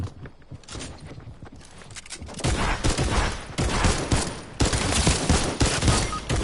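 Shotgun fire in a video game: a quieter opening, then repeated loud, sharp blasts in quick succession with scuffling and movement noise between them, close and dense.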